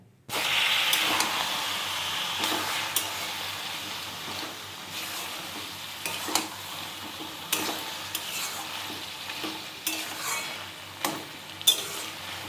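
Ground cumin, Kashmiri chilli powder and radhuni paste cook in a pan for a Bengali taro-leaf and prawn dish, with a constant soft sizzle and hiss broken by repeated spatula scrapes and clinks, close and without voices.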